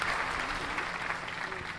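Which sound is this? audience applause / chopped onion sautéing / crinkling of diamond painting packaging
audience applause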